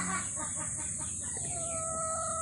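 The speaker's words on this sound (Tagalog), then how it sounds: "Ngayon, papakain tayo ng mga manok." Chickens at feeding time, a steady close chorus of clucks and short calls, with a high constant whine behind them.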